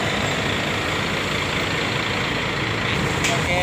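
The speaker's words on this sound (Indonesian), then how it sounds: "Yang bus sleeper pertama di Sumatera ini ya, keren." Sleeper bus from Harapan Indah, the first in Sumatra, idling nearby with a steady broadband engine rumble that holds evenly throughout, with a faint brief hiss near the end.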